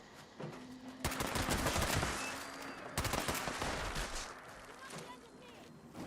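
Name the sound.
gunfire in the video game Fallout 76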